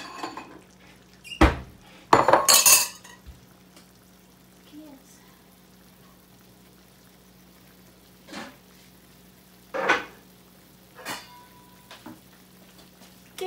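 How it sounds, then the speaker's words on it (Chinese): A lid goes onto a pot of soy sauce chicken drumsticks simmering in their sauce: a quick metallic clank and a brief rattle, then a low steady hum with a few soft, scattered clinks. "我盖上盖。"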